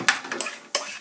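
Pine nuts toasting in a pan, sharp close clicks and scrapes of a utensil against the pan with a faint sizzle in between, a few quick hits over about a second, no talking.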